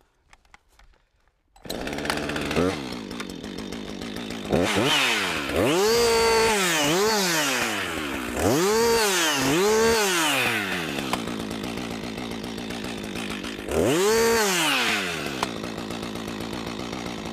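A chainsaw in use felling a tree revs up repeatedly to full speed, with loud rising and falling whines between idle stretches.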